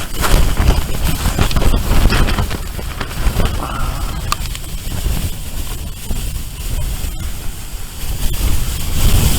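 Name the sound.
strong wind gusts in the snow on Vatnajökull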